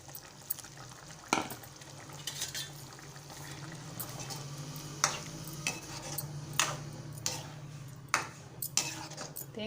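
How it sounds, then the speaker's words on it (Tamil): Brinjal kara kulambu simmers in a pan as coconut milk goes in, with a steady low bubbling and sizzle, scattered spoon clinks and scraping against the vessel, and a few sharper metallic taps throughout. "இப்போது கடைசியாக கொஞ்சோண்டு ஒரு அரை மூடி தேங்காய் துருவி தேங்காய் பால் எடுத்துருக்கோம், அதை சேர்த்துக்கலாம்"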